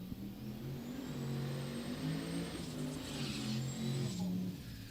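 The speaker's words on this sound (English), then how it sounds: "The turbocharged station wagon." A turbocharged 1980 Buick Century station wagon engine drones and revs at a drag strip, fairly faint and distant, with a high turbo-like whine above the low engine note.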